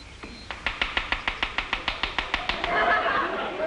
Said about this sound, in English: There go the woodpeckers again.